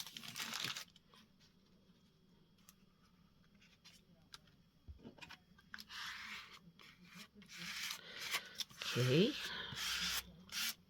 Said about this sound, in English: Just smoothing it out.